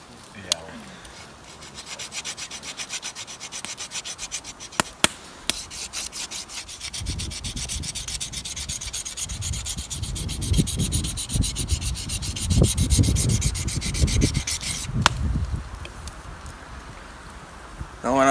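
An edge being cleaned up by hand rubbing, a scratchy rasping friction that strokes on and off and builds into a denser, louder stretch midway before easing.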